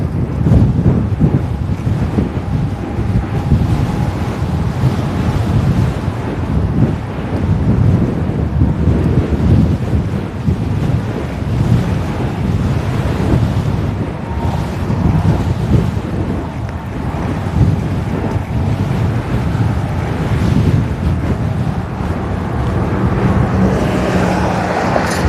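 Strong wind roars outdoors, buffeting the microphone continuously for the whole stretch as a loud, steady rumble with gusty swells and no pauses.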